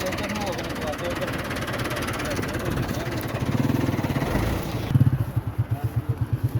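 A tractor engine runs close by with a throbbing rumble that turns into a steady, rhythmic idle pulse, while people talk over it.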